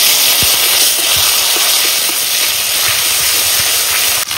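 Ground garam masala and ginger paste sizzle in hot oil, already seasoned with dried red chillies and cumin, making a steady loud hiss that runs throughout with a few soft pops, no voices over it.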